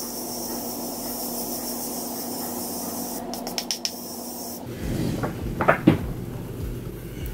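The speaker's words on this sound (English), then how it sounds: "I'm gonna take the Morphe Continuous Setting Mist and just apply it to my face" Morphe Continuous Setting Mist is sprayed onto a face in a few quick, close hissing bursts, with small clicks and handling noises around them.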